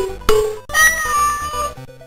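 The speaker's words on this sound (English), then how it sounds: "It also features a bunch of digitized cat meows" Digitized cat meows from a Commodore 64 video game, a brief yowl followed by a longer drawn-out meow, loud and clear over a steady chiptune backing.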